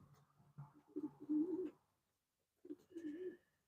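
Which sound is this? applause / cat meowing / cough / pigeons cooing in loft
pigeons cooing in loft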